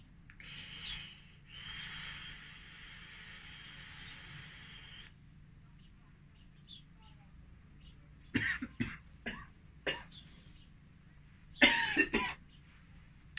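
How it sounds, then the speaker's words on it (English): Several short harsh coughs in uneven bursts after a vape hit on a freshly rebuilt cotton wick in a Kangertech Dripbox 60W, with a long exhaled breath before them; close and fairly quiet, no talking. "Coughing because it's still breaking in the cotton, using cotton bacon."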